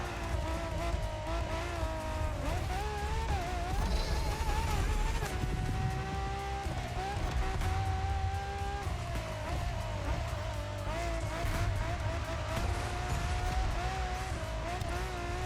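A Ferrari LaFerrari driving in The Crew Motorfest, its engine note steady and continuous with rising and falling pitch through gear changes, tires squealing faintly at times, no voices.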